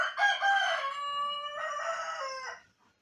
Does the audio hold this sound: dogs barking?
no